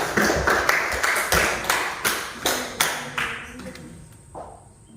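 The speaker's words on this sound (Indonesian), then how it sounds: "tepuk tangan dulu untuk presentasi kelompok 3" A small classroom audience claps for a group presentation, a close, fairly loud burst of hand claps in uneven pulses that gradually thin out and stop.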